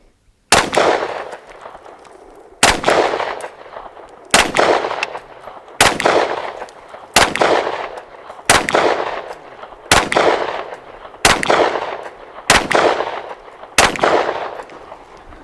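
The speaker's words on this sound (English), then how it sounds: "I'll just put a few shots through it first of all, because I've not fired it at all." A Sig Sauer P320 Nitron 9mm pistol fired about ten times at an outdoor range, loud close cracks spaced roughly one to two seconds apart, each ringing off briefly, with no talk.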